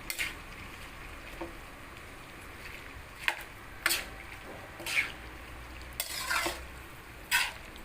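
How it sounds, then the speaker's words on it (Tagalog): Bihon guisado with cabbage fries quietly in a pan while a spatula stirs and scrapes in several distinct, irregular strokes over a low sizzle. "haluin lang natin"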